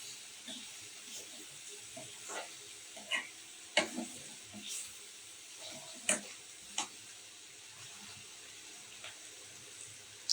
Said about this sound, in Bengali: এদিকে করলাটা একটু নাড়াই দেব